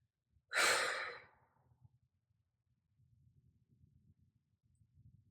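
A single deep breath during a slow full-body yoga flow, a strong, airy exhale-like rush near the start, then only faint low rustling for the rest.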